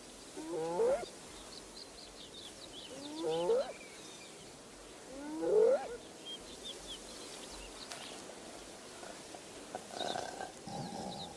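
Lionesses and hyenas squabble at a carcass in the wild, giving three short, fairly loud growling snarls spaced a few seconds apart over a hissing outdoor background with faint bird calls.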